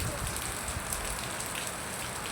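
Rain pouring during a typhoon in Kalibo, a dense, steady hiss that fills the whole two seconds, close and loud, with no voices.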